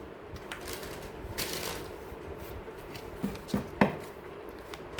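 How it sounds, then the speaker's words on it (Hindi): Tarot cards slip and fall, then are gathered and shuffled by hand: a soft papery rustle through the first seconds, then three sharper slaps and taps close together near the end, fairly quiet. "कार्ड्स गिर गए, एक सेकंड।"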